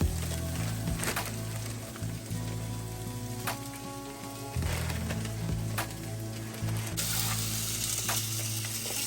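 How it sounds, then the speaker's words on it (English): Kale frying in butter in a home kitchen pan gives a steady, crackling sizzle throughout, with a low mechanical hum and a few sharper pops on top. "now that you hear the sizzling from it, we're gonna add some more kale"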